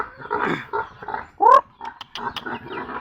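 Several low grunts and snorts from pigs come in short, irregular bursts at close range, with one louder squeal in the middle.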